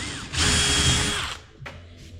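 A power drill bores a 3mm pilot hole through a cupboard shelf template: a loud, close whine that lasts about a second, then a brief second burst as the bit spins down.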